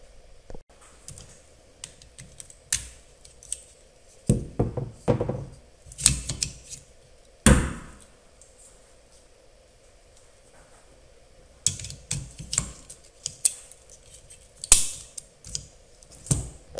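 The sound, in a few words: wiper blade clicking into place on a 2023 Toyota 4Runner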